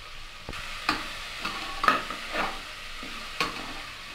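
Spices and vegetables for a mixed vegetable kurma sautéed in a pan, a low sizzle punctuated by about half a dozen distinct spatula scrapes and taps at irregular intervals, close and clear with no talking.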